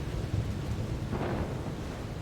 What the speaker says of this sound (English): One of the first things we hear in this trailer is a thunderstorm.